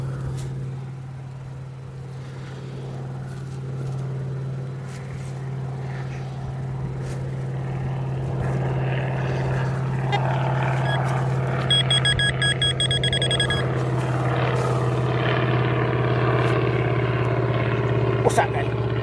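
A propeller aircraft passes overhead while people go metal detecting outdoors in Gloucestershire. A steady engine drone hums throughout and swells gradually, with people talking beneath it and a brief electronic beeping partway through.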